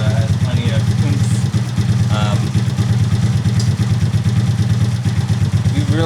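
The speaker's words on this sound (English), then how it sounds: "If you really listen, it has a very, very slight tick, and it sounds like it's coming from the exhaust valve." A rebuilt Honda Grom motorcycle engine idles close by, its steady low putter carrying a very slight ticking from the exhaust valve. A voice talks over the running engine.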